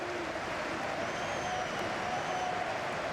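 Home crowd noise fills the Kidia Arena during an EA FC 24 esports match at the EWC, a steady wash of cheering and applause heard at a distance with no clear voices on top.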